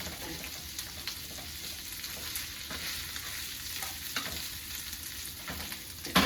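Chorizo sizzles and crackles steadily in a pan over a flame, a close, continuous fry broken by a few sharp spits and the occasional scrape of stirring.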